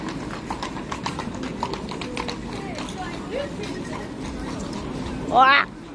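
Horse hooves clip-clopping on a Vienna street, a steady run of close, sharp clops alongside carriage noise, with people talking nearby and a short squeal near the end.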